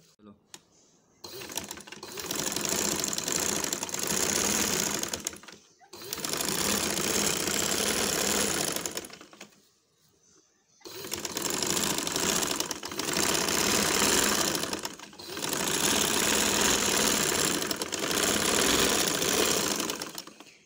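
Home sewing machine running top stitching on purple fabric in four long bursts of rapid, even chattering, separated by short pauses, fairly close and clear.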